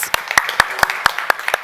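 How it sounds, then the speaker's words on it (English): An audience at a panel discussion on climate action in agriculture and food systems applauds the panelists, with sharp close hand claps standing out over a dense bed of clapping. "Big thanks with a round of applause to the panelists."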